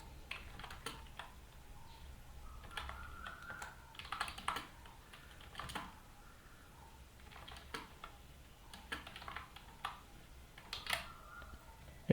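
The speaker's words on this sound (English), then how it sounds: "I'm going to type some random code." Someone types random code on a computer keyboard, producing irregular bursts of crisp, close keystrokes with short pauses between clusters, fairly quiet and with no talking.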